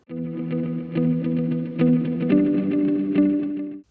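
A short excerpt of a song plays, with dense, effects-laden band sound, chorused and distorted guitar, and no talk.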